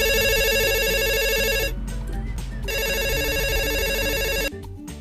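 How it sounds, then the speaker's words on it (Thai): A telephone rings with a loud repeating electronic melody, breaking off into a short pause, resuming, then stopping abruptly near the end. "และนี่คือเสียงโทรศัพท์นะครับที่เด็กๆได้ยินนะครับ"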